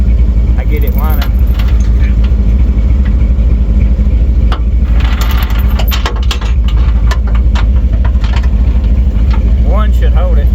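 The engine of a rusty Chevrolet El Camino runs at a loud steady idle with rising and falling pitch, while people talk and metal clinks nearby.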